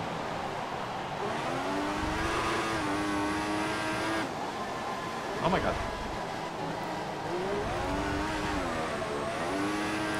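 Race car engine from the F1 2014 video game revs and shifts through gears with a steady high-pitched whine, loud and continuous under excited commentary from players.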